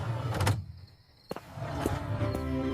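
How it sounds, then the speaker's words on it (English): A door opens with a latch click and a brief sliding thunk partway through, set amid steady background noise with a quiet gap in the middle. "I'm opening the door now."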